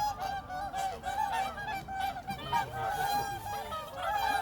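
Loud, repeated honking calls from swans, a busy overlapping chorus of brassy honks with no talking.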